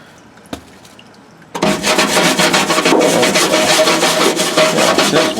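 A stiff bristle brush scrubs soapy bodywork on a Chevrolet Silverado: after a near-silent start and one small knock, loud continuous wet rubbing strokes begin and carry on steadily, close up.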